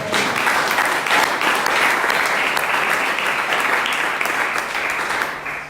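Congregation at a church service applauding and cheering, steady dense clapping filling the whole stretch, loud and sustained before easing slightly at the end.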